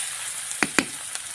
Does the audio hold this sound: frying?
yes